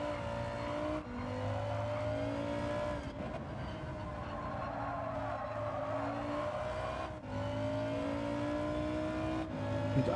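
Race car engine in Gran Turismo 7 online lobby racing, revving high and climbing through gears with brief dips at shifts, continuous and close, with other cars faintly audible.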